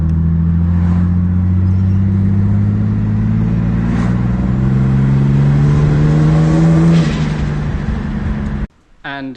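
A turbo-swapped car that is still running without a tune drones with a steady, loud engine note on a short test drive, rising slowly in pitch as it accelerates. Near the end it cuts off abruptly, leaving a short quieter stretch.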